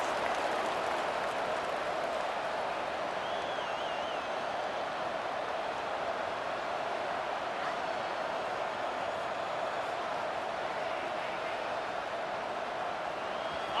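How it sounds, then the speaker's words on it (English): A stadium crowd in the College Football 26 video game roars in a broad, steady wash of cheering noise that holds at an even level throughout, with no distinct voices rising above it. "This crowd ready to make its presence known"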